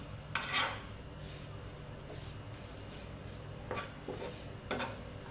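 Homemade pickle stirred in a pan, with a few sharp metal spoon clinks and scrapes against the pan over a faint background hiss, close and unaccompanied by speech.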